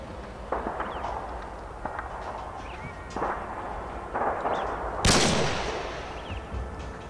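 Grenade and gunfire in a multiplayer shooter tournament match: repeated sharp distant shots, then one loud explosive blast with a decaying rumble, over steady background game ambience.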